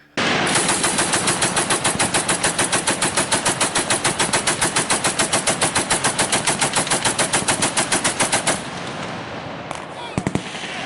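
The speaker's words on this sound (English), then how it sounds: "the ship still had 20mm cannons, and I'll show you a video here" A 20mm naval cannon on a WWII-era ship firing a long, rapid burst of evenly spaced loud shots for about eight seconds, then a few isolated reports after a pause, heard as played-back film footage.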